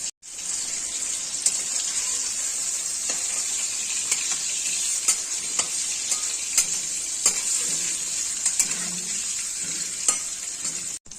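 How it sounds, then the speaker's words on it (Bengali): Pieces of katla fish fry in hot oil, giving a steady, loud, close sizzle with crackling pops throughout and no talking. "মাছ আরও রয়েছে, এই 3টেকেও ভেজে নিচ্ছি"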